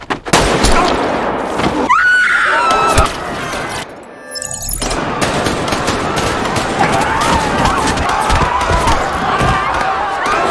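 Gunfire cuts down running players in the Squid Game film, bursts of shots mixed with loud crowd screaming and panicked cries, with a brief lull before chaotic noise resumes.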